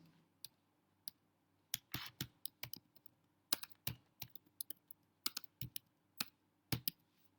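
Keys on a computer keyboard clack in quick irregular clusters as a search term is typed, crisp and close but quiet, with short pauses between bursts and no voices.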